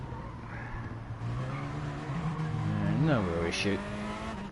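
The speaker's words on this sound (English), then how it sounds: "He's double braking there." A race car in the EDC Super Group 3 Championship racing game on Tokyo Expressway South Inner Loop brakes hard; a droning engine note sweeps up and down with squealing tires as a commentator talks over it.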